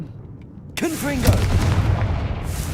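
A Confringo spell blast in Hogwarts Legacy lands with a sudden booming burst, then a crackling rumble that rolls on for a couple of seconds, with a brief voice-like sound mixed in at the start.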